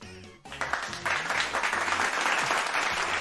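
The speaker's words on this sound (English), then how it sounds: "Somebody's clapping here." Audience clapping swells after a short pause and holds as a dense, steady wash of applause for the rest of the stretch, loud and close.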